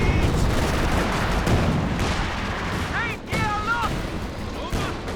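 A walking Stuka rocket artillery barrage in Company of Heroes 2 gives a dense, continuous roar of explosions and launches, with someone commentating over the top.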